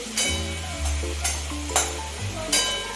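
Cut rohu fish curry cooking in a pan, with four or five sharp spatula scrapes spaced about half a second apart over a low steady hum and gentle sizzling.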